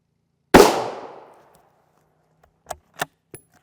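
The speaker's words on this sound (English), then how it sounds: "We got all of our shots on our plate." Rifle rounds, M855 and M193, strike an armor plate: one loud sharp crack with a decaying ring, then after a pause three shorter, quieter impacts in quick succession, with no voices.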